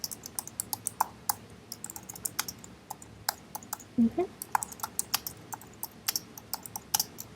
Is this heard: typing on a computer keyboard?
yes